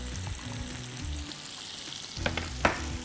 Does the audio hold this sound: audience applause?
no